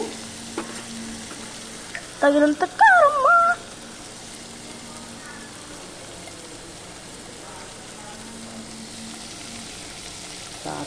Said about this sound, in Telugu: ఇది నూనెలో మంచిగా ఫ్రై అయింది.